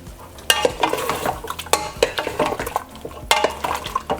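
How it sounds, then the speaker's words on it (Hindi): Pieces of mutton go into a pot of boiling water in a home kitchen, giving a run of close clattering knocks, splashes and scraping stirs with no talk. "और पानी में बॉईल आ गया है, इसमें मैं अब ये गोश्त डालूँगी"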